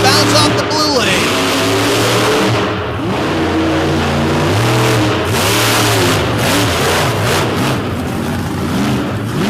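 A racing truck with spools front and rear revs hard off the line at a Madison destruction show, a loud, harmonic engine climbing and dropping through repeated gear pulls amid crowd and arena noise.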